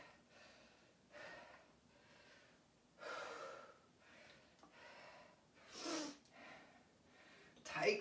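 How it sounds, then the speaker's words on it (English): Heavy, gasping breaths from a full-body workout come in separate bursts, several sharp inhales and exhales spaced across the stretch with the loudest near the end, close and otherwise quiet. "I try to get my breathing back into a nice rhythm here"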